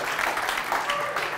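Scattered audience applause in a conference hall after a technical talk, a brief patter of clapping mixed with faint murmuring, moderately loud and short.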